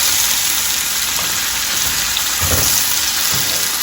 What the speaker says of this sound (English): Got quite a sizzle there on the skillet